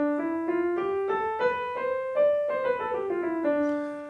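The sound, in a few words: Dorian scale played on an instrument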